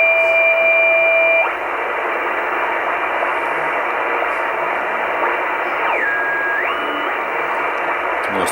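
A shortwave receiver on the 10-meter amateur band hisses with steady static while interference from household devices cuts through as thin, steady tones, with one tone dropping away early and another sliding in and out later.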